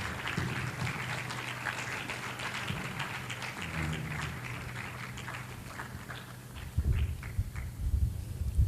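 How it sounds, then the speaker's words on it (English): Applause from a seated audience welcoming a pharmacist to the stage at a general assembly plenary session; a fairly distant, rattling patter over a low hum that surges louder near the end. "Keep clapping"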